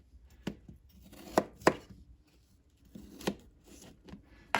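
Knife cutting peeled potatoes into cubes on a board, making sparse, irregular thunks and clicks close by against a quiet background.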